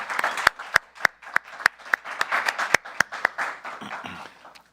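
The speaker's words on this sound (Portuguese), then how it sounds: "recebam o nosso convidado de hoje com aplausos" A small audience welcomes a guest speaker with applause at a philosophy talk event; individual hand claps are sharp and distinct over a softer bed of clapping that tapers off.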